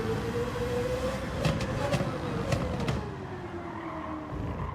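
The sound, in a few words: racing car engine in video game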